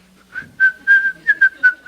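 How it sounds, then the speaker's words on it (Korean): A preacher whistles a short tune during a church sermon, a clear, loud sequence of about five bright notes with slight pitch slides, heard alone without talk. "휘파람 봅니다."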